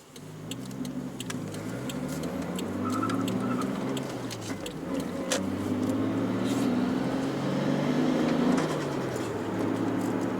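A repaired 20-year-old Toyota Chaser JZX100, once left immobile after an accident, runs and drives with a steady engine drone that rises and falls through gear changes, heard from inside the cabin with no talking.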